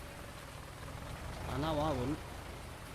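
Rain falling in the Farming Simulator 19 game, a steady soft hiss of rainfall beneath a brief spoken line from a man, with a faint low engine rumble.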